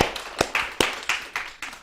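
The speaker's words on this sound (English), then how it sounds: "Let's give him a round of applause." A small group at a spirit seekers weekend gives a brief round of applause, with a few sharp, loose hand claps close by and no talking.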